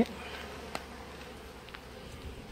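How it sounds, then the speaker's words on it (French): Honeybees buzzing softly around a small colony opened for inspection before winter, a faint continuous hum with a few brief close passes. "Les abeilles sont belles."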